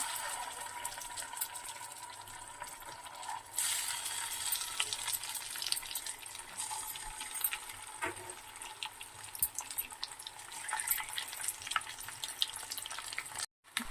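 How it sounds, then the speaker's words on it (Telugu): Eggs frying in oil seasoned with turmeric, cooked for a tomato egg curry, give a steady close crackling sizzle with occasional louder spitting bursts and no voices. "పసుపు వేసుకుని ఎగ్స్ ఫ్రై చేసుకోవాలి"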